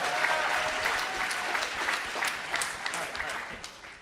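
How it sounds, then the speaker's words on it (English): An audience at a hackathon closing ceremony applauds, a full crowd clapping that holds steady and then thins slightly toward the end, with a faint murmur of voices underneath. "let's give them a big round of applause"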